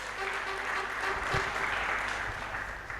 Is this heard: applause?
yes